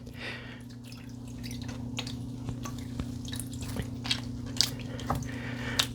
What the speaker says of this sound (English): I'm squeezing the butter, and it's squeezing out a lot of that buttermilk.